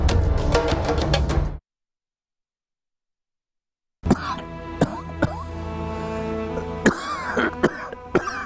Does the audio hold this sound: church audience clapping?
no